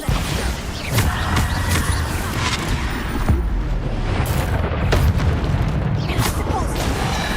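Dense, continuous spell explosions and blasts from a Hogwarts Legacy combat scene, with repeated booming impacts and crashing hits layered over constant loud battle noise, and a voice shouting spell names.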